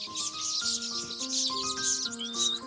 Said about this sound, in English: Birds, called village weavers.